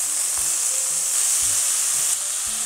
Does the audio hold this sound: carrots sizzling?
yes